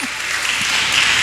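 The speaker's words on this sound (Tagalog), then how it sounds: "Palakpak." Brief burst of steady clapping from a church congregation during a healing service, dense and even throughout with no voices over it.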